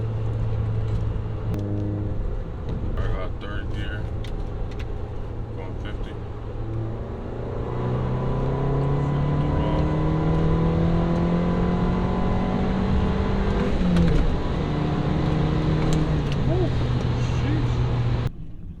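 A car fitted with a Clutch Masters FX250 clutch pulls hard in third gear at about 50, its engine note rising steadily up close over a long stretch before easing off at the end, with someone talking at times.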